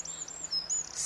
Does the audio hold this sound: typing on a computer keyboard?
no